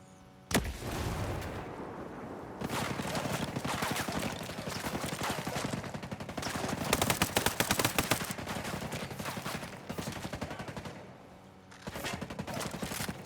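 Unsuppressed gunfire in the Ghost Recon Breakpoint shooter, starting with a sharp single shot and then long, loud bursts of rapid automatic fire with brief pauses, close and dense throughout.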